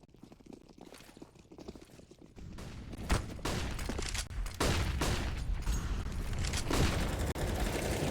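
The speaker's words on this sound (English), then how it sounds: "Already a lot of gunfire going the way of mid" Counter-Strike gunfire during a professional esports match: quiet rattling at first, then loud sustained bursts of rapid shots and sharp cracks that fill the second half, with no speech.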